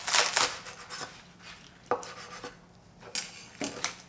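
A knife chops seafood pancake (haemul-pajeon) ingredients on a cutting board in several separate sharp knocks with pauses between them, close and clear, no speech.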